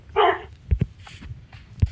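A dog in the Minecraft video game gives a short bark followed by a few soft thuds and faint yips, close and brief.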